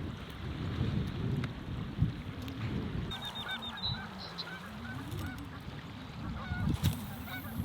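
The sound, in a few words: geese honking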